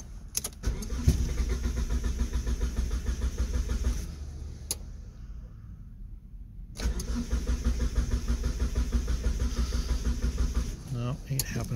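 A car engine with a dead fuel pump cranks repeatedly without starting, in close, loud bursts of whirring starter noise separated by a quiet pause.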